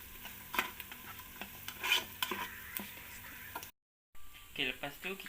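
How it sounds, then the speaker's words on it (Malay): Ingredients sauté and sizzle in a Noxxa pressure cooker pot while a wooden or plastic utensil stirs and scrapes in repeated soft strokes, with a quiet steady fry underneath and talk over it. "jadi kita biar je tumis sampai dia kekuningan."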